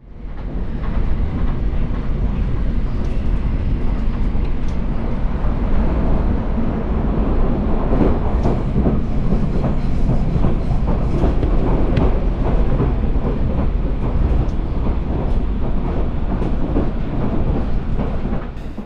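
A Régiolis regional train rolls steadily along the line to Sarreguemines, a loud continuous rumble of wheels and motors with faint rail clatter, heard from onboard near a long tunnel, without pause for the whole stretch.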